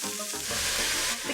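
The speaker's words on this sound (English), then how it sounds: "Heat up some olive oil and then add your vegetables" Celery and peppers hitting hot olive oil in a pan, a loud, close, dense sizzle that bursts up abruptly and holds steady for the short moment, with no talking.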